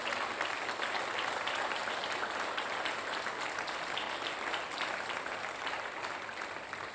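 A church congregation breaks into loud, continuous applause that fills the room evenly for about seven seconds, tapering only slightly at the end, with no speech on top.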